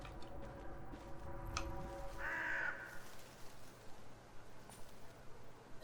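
A crow caws outdoors, with a couple of harsh calls and one louder caw midway, moderately distant over quiet background noise.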